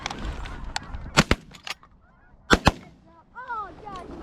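Shotgun blasts during a windy field goose hunt: two sharp pairs of shots fired near at hand, with geese honking around them and calling on afterward.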